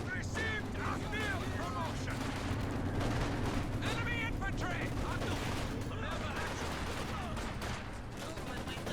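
Rattling bursts of MG-34 machine gun fire amid other battle sounds in the Company of Heroes 2 strategy game, repeated under continuous commentary.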